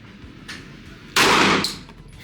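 A single loud gunshot at an outdoor shooting session, a sharp blast with a short decaying tail, heard close against steady background noise.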